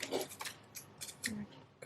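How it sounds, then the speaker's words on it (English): Small scissors snip out a paper stamp in a quick series of light, close, crisp cuts with short gaps between them, quiet and without talk. "Quickly cut it out, trim it up a bit."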